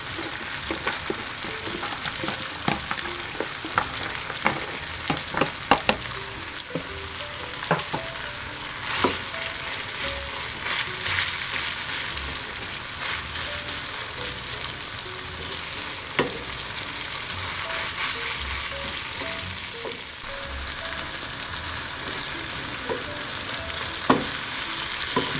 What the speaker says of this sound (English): We're just going to add our onions in there to soften them up a bit.